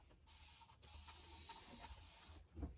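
Alcohol, 99 percent, sprayed from a pump bottle onto a gloved hand in a resin-crafting workspace: a few sustained broadband hissing bursts in close succession, near and steady, with short gaps and a duller spritz at the end.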